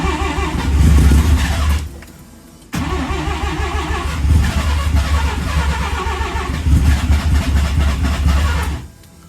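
A Bridgeport-ported rotary turbo engine in an RX3 runs rough after a fuel map change, loud and close, cutting out briefly before catching again and revving in uneven bursts.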